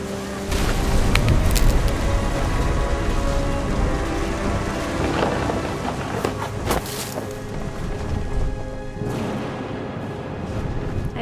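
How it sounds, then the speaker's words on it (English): Steady heavy rain with rolling thunder in the video game What Remains of Edith Finch, a dense broadband downpour that swells with low rumbles, loud and continuous throughout. "Thunder sounded much too close and full of angry power."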